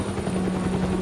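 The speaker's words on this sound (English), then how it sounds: "Oh look, a chopper." A helicopter in the video game Batman Telltale Series keeps up a continuous rotor whir with a steady low hum throughout, fairly close and even in level, with no voices present.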